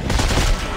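Dense burst of rapid gunfire from the Dead Space 3 co-op campaign on Hard difficulty, a continuous loud crackle of shots packed into under a second.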